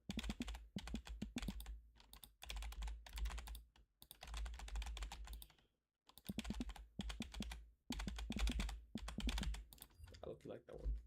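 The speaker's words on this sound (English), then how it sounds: "How do I check keyboard sounds?" Rapid, continuous clicking of a computer keyboard being typed on in bursts with brief pauses, fairly loud and close over a low steady hum, during a Deltarune gaming session.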